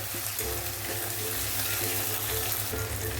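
Capsicum sautéing in a pan for paneer tikka masala, a steady close sizzle and crackle running throughout with a low background hum and no talk.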